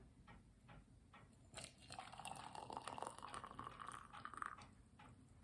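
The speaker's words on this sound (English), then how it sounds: "Pour our hot water." Hot water is poured into a teapot over a teaspoon of loose chamomile, a soft rising gurgle of filling liquid that swells in the middle and fades, quiet and close, after a few faint clicks.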